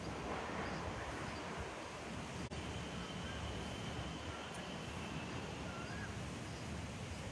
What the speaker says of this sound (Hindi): खूब तेज हवा चल रही है।